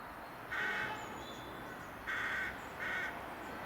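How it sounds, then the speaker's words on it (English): Crows cawing up in a conifer beside a railway nature site near Hythe, Kent, three harsh calls spaced apart at moderate distance over steady outdoor hiss. "Our crows are busy up there in that conifer."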